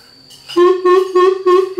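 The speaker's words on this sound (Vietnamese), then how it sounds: "Đây là tiếng bìm bìm nhá các bác nghe này." A coucal call played back through a premium E900 bird-trapping speaker with echo switched off: a run of loud, low, evenly spaced hooting notes follows a quieter lead-in, close and clear with no talk over it.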